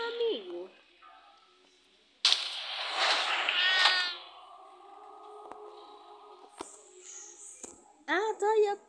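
A cat meows several times in short, whiny calls within a video game, with rustling and other game sounds in between.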